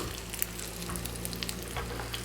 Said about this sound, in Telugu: ఇలా చక్కగా మంచి బ్రౌన్ కలర్లోకి వచ్చే వరకు ఫ్రై చేసుకోవాలి